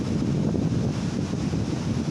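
Strong wind roars across a high hilltop ridge near a temple, buffeting the microphone in a loud, steady, unbroken rush.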